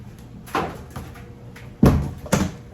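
A household cleaner bottle knocked over indoors gives a few sharp knocks and clatters, the loudest two close together near the end, over a quiet room background.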